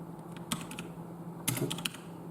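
Quick taps on a computer keyboard come in two short bursts, crisp and close against a quiet background hum, with no talk.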